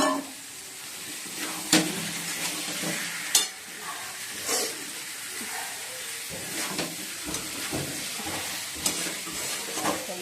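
Eggs frying in a pan with a steady sizzle, punctuated by sharp scrapes and clinks of a spatula stirring against the metal, close by and with no talking.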